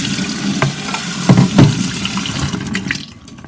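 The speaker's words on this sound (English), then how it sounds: "I'm going to rinse that out nicely as well" Black beans are rinsed in water, with close splashing and swishing, a few louder sloshes in the middle, then it quietens toward the end.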